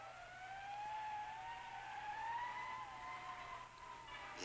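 A fire truck siren wails, rising and falling steadily in the distance, faint over low traffic rumble, with no voices, in 1961 South Korea.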